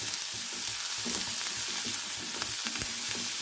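Onions sauté in a pan with a steady close sizzle and frying crackle, and occasional scrapes and taps of stirring break through the hiss.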